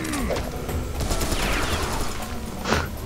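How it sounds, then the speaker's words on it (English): Assault rifle firing in the Serious Sam: BFE video game, a dense rattling burst of rapid shots close up, with a louder report near the end and faint voices under it. "Assault rifle!"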